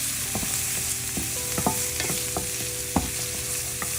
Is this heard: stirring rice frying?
yes